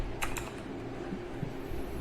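Keystrokes on a computer keyboard, a few quick clicks near the start and then sparse soft taps over a low room hum, fairly quiet and close, no talking.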